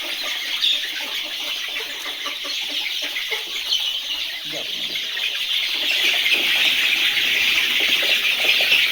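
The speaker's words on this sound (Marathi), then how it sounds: "हे सोनाली जातीचे एका महिन्याचे पक्षी आहेत इथे" A compartment of about 400–450 one-month-old Sonali breed chickens on a farm gives a steady, dense chorus of high chirps and squeals that grows slightly louder toward the end, with no one talking.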